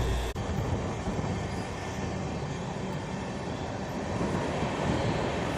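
Goods train rolling past close by near Ramagundam railway station, a steady loud rumble of wagons and wheels on track that continues without break, with no voices.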